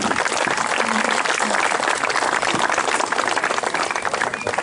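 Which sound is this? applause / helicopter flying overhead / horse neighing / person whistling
applause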